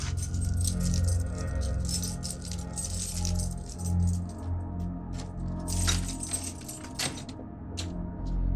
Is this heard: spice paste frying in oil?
no